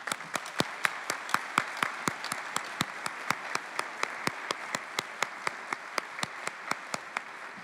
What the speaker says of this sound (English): Let's give him a round of applause right now.